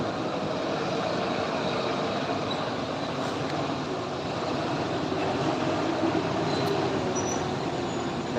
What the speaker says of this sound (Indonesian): Yes, truk besar.